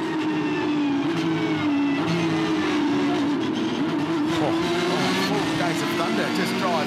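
An onboard Carrera Cup race car engine drones and shifts pitch through the opening lap of a Supercars SuperSprint round, a loud, sustained buzz with commentators talking over it.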